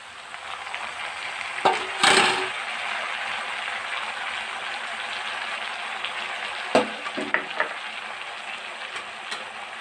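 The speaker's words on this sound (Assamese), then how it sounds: "তাৰপিছত এয়া মচুৰ দালিখিনি ঢালি দিব আপোনালোকে।" Masoor dal poured into a hot pan and frying, giving a steady, soft sizzle with a few brief louder clatters of the pour and stirring, close by, with no talk.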